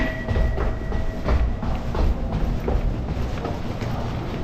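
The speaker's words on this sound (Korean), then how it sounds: "다음에 갈아탈 기차는 제래선 이거 타고 가야 됩니다" Steady rumble and rhythmic clatter of wheels inside a Japanese conventional-line train car while riding, a continuous close-up rolling noise with faint squeals, no voices.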